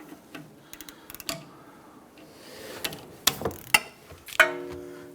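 Ratchet clicks from a 14mm socket loosening a brake hose bolt on a 2007-2021 Toyota Tundra rear brake line, heard as scattered bursts of close, sharp mechanical ticks with short pauses between them.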